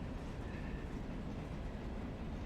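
A Robinson coal train rolls along the Hojack line in the Railroader game, a continuous low rumble of rail cars and wheels at moderate distance with no talking over it.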